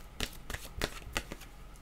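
Tarot cards shuffled and drawn by hand for a reading, three or four crisp riffling bursts in quick succession, close and clear.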